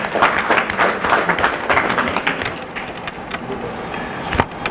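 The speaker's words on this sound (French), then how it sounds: "Applaudissez, s'il vous plaît." An audience at a poetry reading applauds, with dense, bright clapping that carries on steadily for several seconds at moderate volume, a few louder claps standing out near the end.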